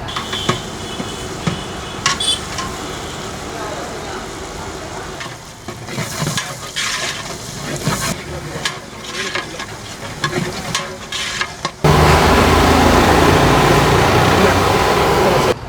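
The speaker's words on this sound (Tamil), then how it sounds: "வெங்காயத்தை வந்து நல்லா ப்ரௌன் கலரில் பொரிய விடணும்." Onions fry in hot oil for a chicken biryani, a busy sizzle with repeated scraping and stirring knocks, ending in a louder, dense crackle of frying.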